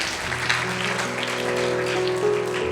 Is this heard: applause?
yes